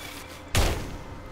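A single gunshot in the fantasy dungeon video game Legend of Grimrock II, a sudden sharp blast that decays over about a second.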